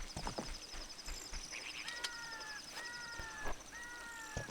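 Steady clip-clop of the horse Epona's hooves at a trot in The Legend of Zelda: Ocarina of Time, with repeated rising tonal chimes and busy game-like background sound throughout.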